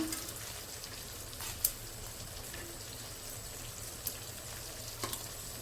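Potato chips fry steadily in hot oil in a pan, giving a continuous soft sizzle with a few faint clicks and taps over the top, with no voices.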